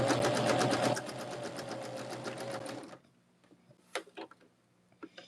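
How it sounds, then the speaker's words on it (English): A sewing machine chain-pieces quilt block pieces one after another with a scant quarter-inch seam, running in a loud, steady whir for about three seconds before stopping, followed by a few faint ticks and clicks. "just stitch one right after the other. So this is chain piecing."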